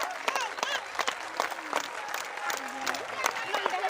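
Scattered clapping from a group of people at a game show, with voices calling and chattering over it throughout.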